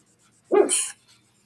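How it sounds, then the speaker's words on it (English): A dog gives a single short bark, fairly close and clear, set against an otherwise quiet background. "I heard the pooches bark."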